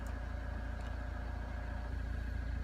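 A Vauxhall Zafira Tourer engine idles steadily nearby, giving a low, even rumble with a slight regular pulse and no voices.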